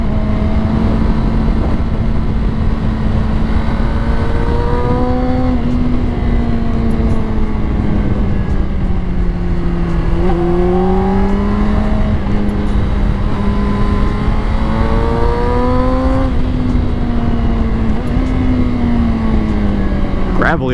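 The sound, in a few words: Honda CBR 600RR sport bike riding through twisty roads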